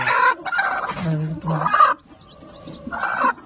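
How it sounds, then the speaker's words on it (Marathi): A free-range village hen with a brood of young chicks clucks in short loud bursts close up, with faint peeping in the quieter gaps. "ह्या कोंबडी खाली जी आपण रात्री 15 पिल्ल ठेवलेली ह्या कोंबडी खाली"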